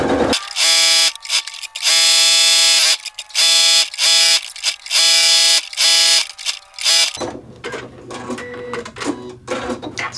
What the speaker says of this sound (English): So I am going to zigzag all the way around this pocket.